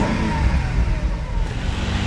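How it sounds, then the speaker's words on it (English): An old Mercedes-Benz W210 E60 AMG sedan engine idles up close with a deep, steady rumble that swells slightly as it revs, with no one speaking over it. "That's what you want to hear when starting up an old car"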